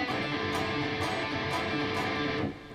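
A fast electric guitar legato line is played without muting, so unchecked string noise and ringing overtones pile up into a dense, moderately quiet wash with regular accents about every half second.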